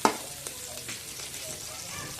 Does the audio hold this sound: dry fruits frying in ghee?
yes